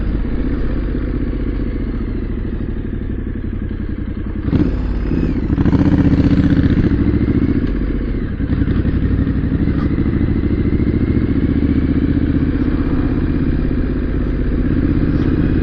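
A motorcycle ridden on the road gives a steady, loud engine drone with wind rumble and a few thumps and surges along the way.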